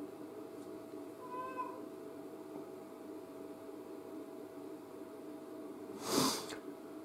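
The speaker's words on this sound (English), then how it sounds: "you guys can hear my cat" A house cat gives a soft meow early on, then makes a sharper, louder snort or sneeze-like burst near the end, all fairly close over a faint background hum.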